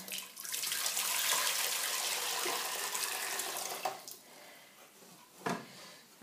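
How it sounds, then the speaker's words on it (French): Hot tap water running into a cooking pot for pasta, a steady rushing pour that lasts about four seconds, then softer trickles and splashes as the flow tapers off. "je vais mettre de l'eau chaude pour la pâte"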